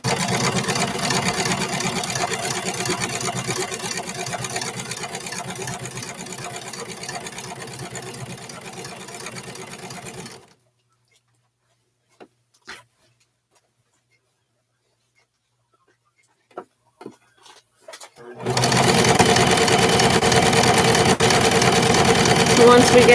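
A sewing machine runs steadily while stitching shorts fabric, a continuous whirring hum that stops for several seconds with a few faint clicks, then starts up again.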